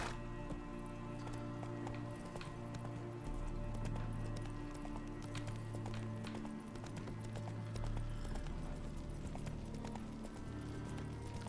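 Roach, a horse in The Witcher 3 video game, galloping with steady rhythmic hoofbeats over a constant game soundscape, plus the occasional snort or whinny; no one speaks.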